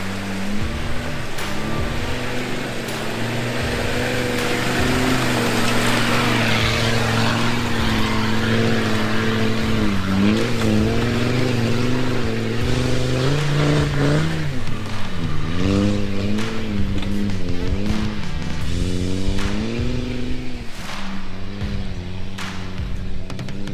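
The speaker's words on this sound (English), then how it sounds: "And I can hear that rumble, that lovely TD5 rumble." Land Rover TD5 diesel engine rumbling as the vehicle climbs a steep, muddy, rocky green lane hill in North Wales, a loud continuous drone rising and falling in pitch as the revs change, with no talk over it.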